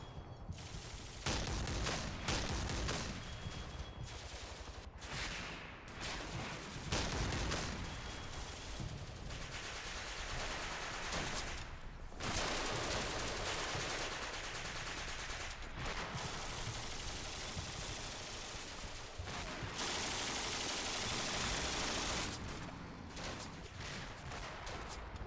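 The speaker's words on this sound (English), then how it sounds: "I see enemy artillery is dropping" Artillery and gunfire in the World War II North African strategy game Combat Mission Afrika Korps. A dense, continuous barrage of overlapping blasts and rattling fire runs steadily throughout, somewhat distant and muffled.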